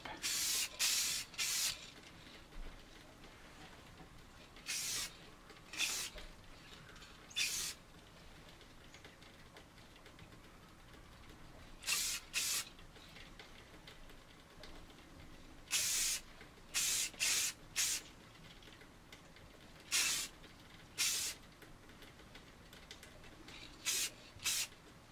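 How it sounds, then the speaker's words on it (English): Spray bursts of gloss coat onto an AMT U.S.S. Enterprise plastic model kit, about a dozen short hissing blasts spaced irregularly, close and moderately loud, with quiet pauses between. "the gloss coat is usually a bit thinner than the primer, so you want to spray with more distance."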